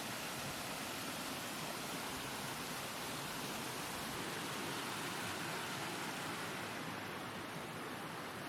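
A steady, dense rush of falling water from a waterfall on Jeju Island, Korea, roars continuously without pause, broad and full and nearby.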